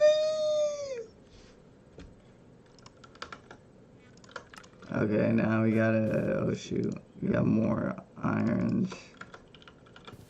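Bursts of fast computer-keyboard typing come in three clusters, close and clear, after a brief meow-like sound and someone speaking.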